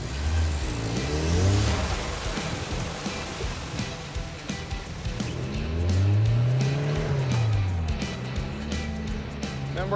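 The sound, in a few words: car being driven and revving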